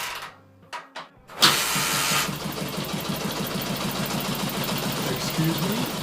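A 1945 Soviet M-72 flathead motorcycle engine, long neglected, cranks with a few short kicks, then catches and runs roughly on one cylinder, giving a steady, uneven chugging idle close up.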